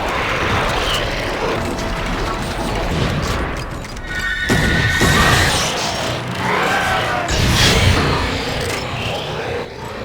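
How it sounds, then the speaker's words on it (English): Gunfire, crashes and weapon reload clanks from the video game Darkwatch fill a dense, loud game soundtrack, with several sharp mechanical hits and metallic rings rising over a constant rumbling mix. "check out the reloading on these guns"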